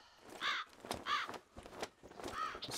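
Crows caw three times in a row inside the video game Zed Zone, hoarse and fairly distant, with gaps between the calls.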